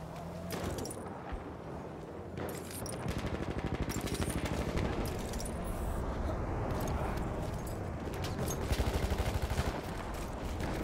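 The MG14/17 machine gun fires in Battlefield 1 on the Amiens map, with rapid bursts of rattling automatic fire amid loud battle noise, continuous with dense stretches of rapid shots.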